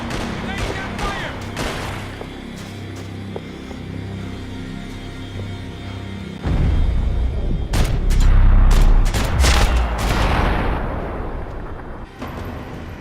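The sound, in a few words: gunfire in Max Payne 3 video game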